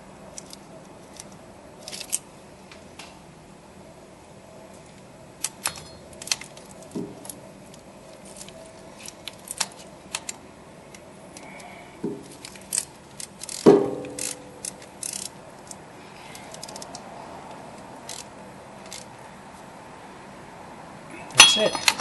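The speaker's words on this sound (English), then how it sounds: "then you'll get on there with the ratchet and just snug it in" A ratchet snugs a speed sensor bolt into an aluminum housing on a 2006 Ford Expedition, giving sparse, faint clicks spread across the clip with a louder clatter midway and another near the end.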